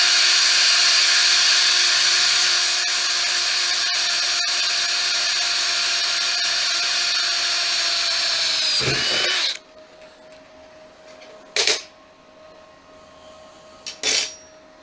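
Power drill boring a 5/32 hole sized for an M5 bolt, a loud steady high-pitched whir running about nine seconds before cutting off, followed by a couple of short clunks in a quiet garage.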